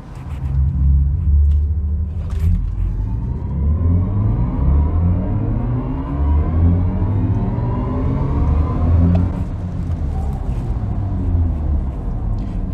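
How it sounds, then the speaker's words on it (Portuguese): A BMW electric sports car accelerates hard under launch control in Sport Boost mode, its artificial drive sound co-created with Hans Zimmer rising in layered synthetic tones that sweep upward in pitch, loud and close, with no talk. "Esse aqui é o som artificial bolado pela BMW em parceria com Hans Zimmer"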